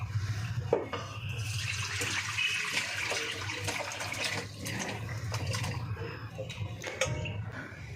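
Washed potatoes and pieces of jackfruit are tipped into a wok, giving a wet watery splash and sloshing with faint clinks of the pan, close up and fairly quiet.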